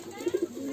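A high flyer pigeon of the Khulna breed gives three short, soft coos in quick succession, fairly faint and close, with no talking.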